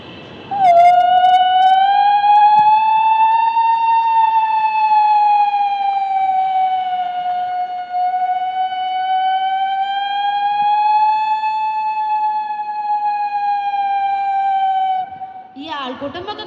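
A voice imitating a fire engine siren, one long sustained wailing tone that rises and falls slowly, loud and close, alone for most of its length.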